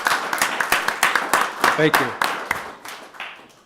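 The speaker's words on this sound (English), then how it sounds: "If you can give him a round of applause" People at a Morrison County, Minnesota public meeting give a rescuer a round of applause at a life-saving award, a run of distinct, fairly close claps that thins out toward the end while a voice speaks briefly.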